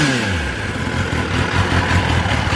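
A new, freshly serviced 2021 Kawasaki ZX10R ABS sport bike engine runs loud and close, a steady rough mid-pitched growl held at moderate revs without pause.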